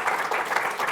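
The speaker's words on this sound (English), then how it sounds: "you would see about 200 people applauding very loudly" An audience of about 200 people applauding at a healthcare sustainability event, with dense continuous clapping that sounds fairly close and steady, with no voices over it.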